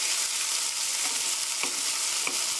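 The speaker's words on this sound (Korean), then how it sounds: "이렇게 해서 stir fry 3미닛 3분 정도 살살 저으면서 볶아주세요." Bell peppers, frozen and still wet, stir-fry in a pan with a steady broadband sizzle, broken by a few soft scrapes of stirring; close and continuous, with no voices.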